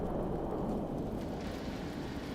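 A nuclear storm in the Fallout 4 video game delivers a low, steady rumble of thunder over constant rain, dense and unbroken throughout with no speech.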